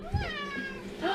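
A house cat gives a short, clear meow close by, with a second rising mew just after, indoors and without talk over it.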